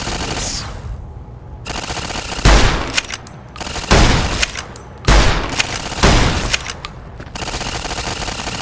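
Turret gunfire in the video game Fallout New Vegas: loud, repeated bursts of rapid automatic fire separated by short pauses, with booming impacts, no talk.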